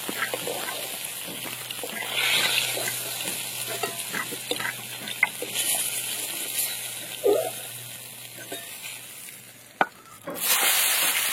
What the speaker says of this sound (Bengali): বেগুন দিয়ে দিলাম, লবণ আর একটু হলুদ।